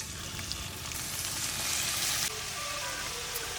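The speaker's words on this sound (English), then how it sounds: "first add a little bit of oil to your pan and let your oil heat up a bit" Chicken seasoned with lemon pepper fries in hot oil in a pan, giving a steady, close broadband sizzle that swells slightly midway and then settles into a constant crackle with no talking.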